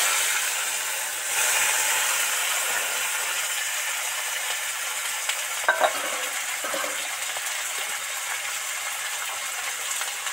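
Potato pieces frying in hot oil with dry chilli, bay leaf and panch phoron, a steady close hiss and sizzle with a few soft stirring clinks partway through.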